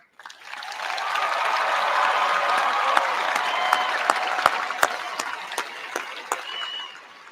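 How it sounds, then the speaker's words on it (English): Large crowd of graduates at a 2022 class graduation ceremony claps loudly for their parents, a sustained dense roar of applause with sharper individual claps popping out near the end before it fades. "graduates, I want to hear you clap really loud for your parents."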